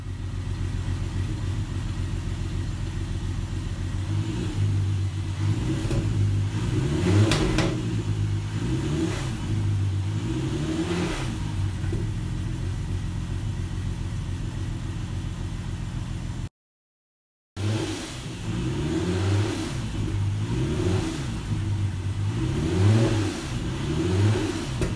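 An Audi TT Mk2 with a swapped-in 3.6L R36 VR6 engine, heard from the rear at the exhaust, revs repeatedly in rising and falling sweeps over a steady idle, loud and close, with a brief cut partway through.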